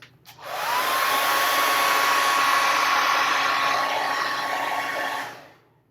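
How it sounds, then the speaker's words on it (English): A hair dryer starts with a click, blows steadily at a constant whine for several seconds, then shuts off and winds down, used on a 1/6-scale figure's shirt. "I hit that with a hair dryer."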